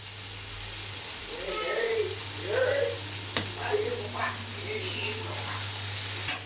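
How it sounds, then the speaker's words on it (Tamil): Chicken noodles being stir-fried with soy and tomato sauce, street-stall style, a steady close sizzle under repeated stirring and tossing strokes, loud and continuous, no talk. "இப்போ நூடுல்ஸ்லாம் போட்டாச்சு இப்போ நல்லா கிளறிக்கலாம்"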